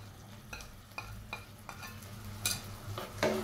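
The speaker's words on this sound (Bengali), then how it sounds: "এবার সবগুলো উপকরণ মিশিয়ে আমি একটু কষিয়ে নেব" Spices and ingredients sautéing in a pan for a Kochur mukhi dal with taki fish, stirred in a series of sharp scraping strokes over a low, quiet sizzle, with no one talking.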